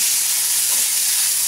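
Sausage meat and onion fry in a pan with a loud, steady sizzle and hiss, close up and without voices.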